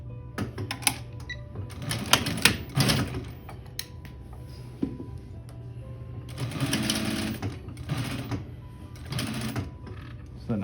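A sewing machine stitches a coat seam in bursts of rapid mechanical whirring and clatter separated by brief pauses, fairly close, with a person talking between runs.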